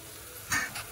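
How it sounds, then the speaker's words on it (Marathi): Stuffed eggplants being stirred and mixed in a hot pan, a short burst of scraping and sizzling that rises midway and fades, followed by a second softer stir, close and alone. "आणि मग सगळी वांगी टाकून व्यवस्थित मिक्स करून घ्यायचं"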